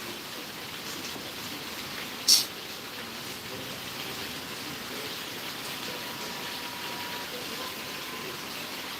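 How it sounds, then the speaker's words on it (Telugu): Rain falls steadily at Srisailam as a faint, even hiss without pause, broken once by a single brief sharp tap near the start. "ఈ వర్షం ఎప్పుడు తగ్గుతుందో ఏమో"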